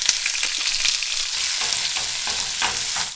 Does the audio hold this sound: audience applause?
no